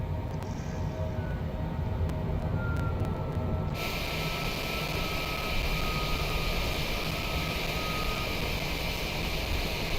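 Airplane engine in flight, on approach with landing gear coming down, holding a loud, steady broadband drone that rises slightly as throttle is added, with no voices over it.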